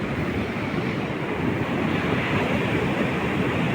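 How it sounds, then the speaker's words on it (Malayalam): Rough, churning sea waves break continuously at Puthiyappa beach in Kozhikode, a loud steady roar of surf with wind buffeting the microphone and no pauses throughout. "കടൽ നല്ല ഇളകി നിൽക്കുന്ന സമയമാണ്"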